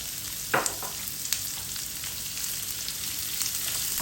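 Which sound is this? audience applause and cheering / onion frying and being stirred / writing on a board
onion frying and being stirred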